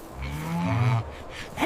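Cartoon cows on a snowy farm let out a low, drawn-out moo at close range, loud and clear, ending with a short rising sound.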